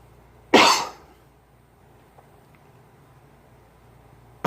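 A single harsh cough bursts out close by, lasting about half a second, and is followed by near silence with faint background hum.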